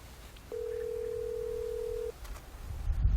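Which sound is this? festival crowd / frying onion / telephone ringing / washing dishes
telephone ringing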